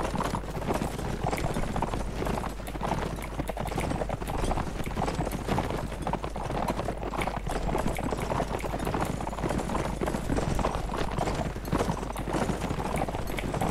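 Cavalry horses galloping in the Mount & Blade Warband: Napoleonic Wars game, a dense continuous clatter of many hooves that stays close and loud throughout.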